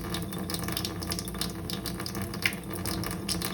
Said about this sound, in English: Now I use a little water on my hands.